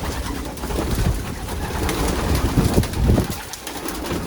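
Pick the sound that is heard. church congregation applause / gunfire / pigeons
pigeons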